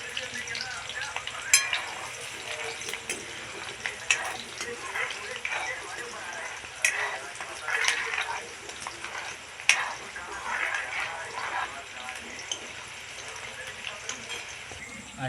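Onions frying in a home kitchen pan, a steady soft sizzle with occasional stirring clatter running throughout, with someone speaking over it.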